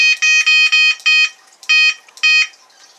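A fishing bite alarm, set from its remote, gives loud, close electronic beeps in short repeated bursts with brief gaps, sounding alone.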